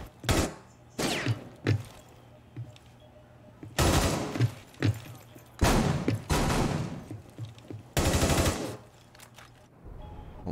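Gunshots in Rainbow Six Siege fire in several sharp, loud bursts spread through about ten seconds, some short single cracks and some longer rapid volleys, with quiet gaps between them.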